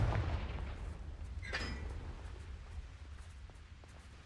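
A Confringo spell explosion in Hogwarts Legacy, a fiery blast with a sharp crackling burst partway through over a steady low rumble, fairly faint overall.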